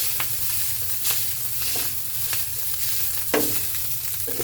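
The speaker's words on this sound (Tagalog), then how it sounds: "Lagyan ng mantika, konti diretso na po. Tapos ang partner niya po dito ay itlog. Magluluto po ako ng itlog." An egg frying in a little oil gives off a continuous crackling sizzle, close and steady, with occasional sharper pops and a light clink or two.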